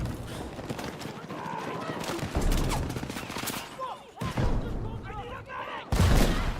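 Mortar and gunfire in an online shooter game, booming blasts and rattling shots arriving in bursts over a busy battle din, with a player's voice talking over the action.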